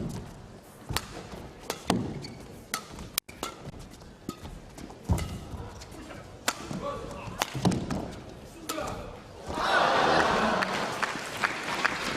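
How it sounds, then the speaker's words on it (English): Spectators at the 2011 Australian Badminton Open men's singles final, amid shuttle hits and court thuds, break into a loud swelling roar of cheering and applause near the end. "And the crowd's loving it. They're really getting involved."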